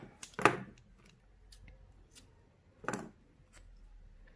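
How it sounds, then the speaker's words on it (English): Scissors snipping crochet yarn after finishing a bralette top: two separate short, crisp cuts about two and a half seconds apart, close and fairly quiet against a near-silent room. "So I'm going to chain one and cut my yarn."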